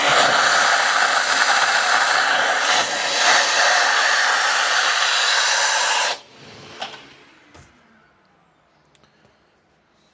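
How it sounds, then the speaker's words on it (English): A loud, steady vacuum cleaner roars for about six seconds, cleaning out a freshly drilled bowling ball, then cuts off abruptly, leaving a few faint clicks and knocks in near silence. "We'll vacuum the rest of this out."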